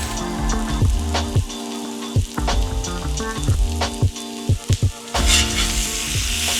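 Roast beef, corned beef and slabs of Euro meat sizzle loudly on a hot griddle, with a dense constant fry punctuated by repeated sharp spatula scrapes and clacks against the metal, close up and without talk.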